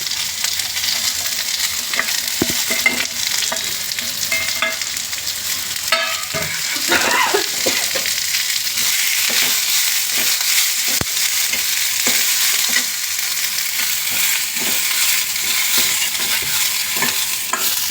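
Dried Byadgi chillies, onion and garlic fry hard in a pan, a loud continuous sizzle broken by frequent scraping strokes of a spatula stirring close by.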